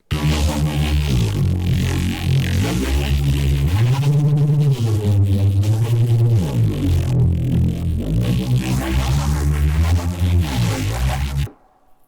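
A thick, growling Reese bass from a Serum synth preset plays sustained notes that slide in pitch, loud and buzzing, before cutting off abruptly at the end.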